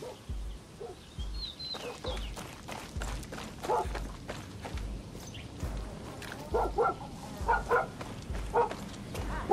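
A dog in the Far Cry 6 video game barks in a steady series of short, loud woofs, with chickens clucking and birdsong mixed in the background.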